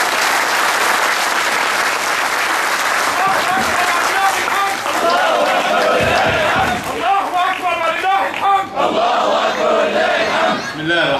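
A packed hall at a political party's first conference in Imbaba, Egypt erupts in loud, sustained applause mixed with rhythmic chanting and shouting, continuing close and dense throughout.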